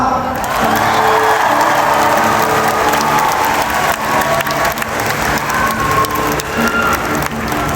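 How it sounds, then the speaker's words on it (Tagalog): Steady applause from a crowd, dense clapping sustained throughout with a few scattered cheers mixed in. "basta may palakpak."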